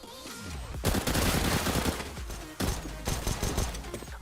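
CZ-75 pistol firing in CS:GO, a dense rapid burst of loud, close gunshots that runs almost continuously, with a brief gap before the shots resume in quick bursts.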